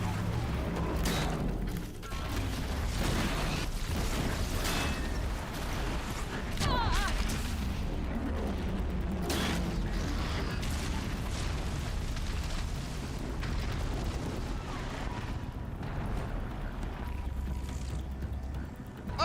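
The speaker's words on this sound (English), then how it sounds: "Oh, I used fire traps." Fire traps going off in Horizon Zero Dawn, a run of booming bursts and crackling pops over a constant low rumble, with a player's voice breaking in now and then.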